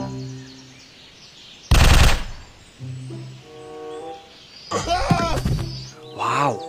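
A toy M16 gun plays its electronic sound effect: short bursts of loud, rapid rattling fire broken up by steady synthetic tones and chirpy beeps, heard up close with no talking.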